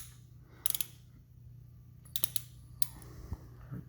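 A 3/8 ratchet tightens the spark plug on a 2006-or-later Yamaha TT-R50 dirt bike, giving a few short, sharp clicking bursts with pauses between them over a low steady hum, close but fairly quiet.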